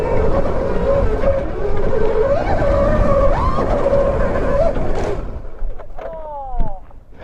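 A supercharged mini bike engine held at wide open throttle in sport mode, roaring loud and steady with a high whine for about five seconds before dropping away into quieter outdoor noise and a brief voice.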